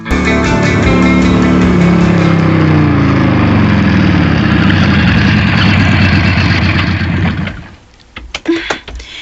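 A motorcycle engine runs loudly and close at a steady idle-like drone for several seconds, then cuts off abruptly into a few faint knocks and rustles.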